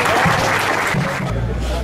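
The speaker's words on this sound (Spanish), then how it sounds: "que la verdad que merece un aplauso grande" A crowd at an evening inauguration of a new local party office applauds steadily, a loud, dense wash of clapping that holds for the whole moment.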